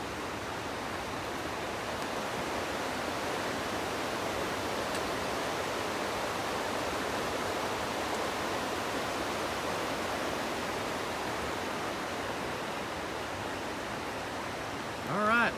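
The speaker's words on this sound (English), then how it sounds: "20 Mile Creek is big creek." Twenty Mile Creek, a big mountain creek in the Smokies, rushes in a steady, full, continuous roar, close and unbroken throughout with no other clear sounds.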